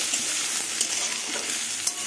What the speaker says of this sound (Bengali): দেখুন আলু ভাজা হয়ে এসছে, আর সেদ্ধও হয়ে গেছে, আর বেগুনও ভাজা হয়ে এসছে